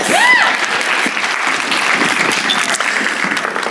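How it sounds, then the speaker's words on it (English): An audience gives a full, steady round of applause, close and loud, sustained throughout with a faint whistle-like tone near the start. "All right, give them a round of applause."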